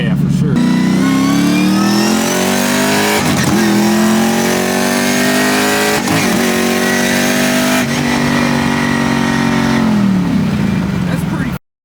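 A twin-turbo 6.2 Raptor-swapped Crown Victoria revs hard and loud, its pitch climbing in repeated sweeps broken by quick clutchless shifts, about four gear changes before the sound ends.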